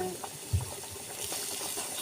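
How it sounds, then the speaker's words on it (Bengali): Water is poured into a small pot of egg bhuna curry, giving a faint, short splash and trickle with a soft thump near the start, over low background noise. "দিয়ে দিলাম পানি"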